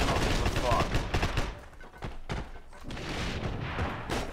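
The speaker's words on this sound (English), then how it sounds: "he just shot me for fun" Gunshots in the World War II shooter Heroes & Generals: rapid bursts of loud, close gunfire with booming thuds, a short lull, then a renewed volley under faint speech.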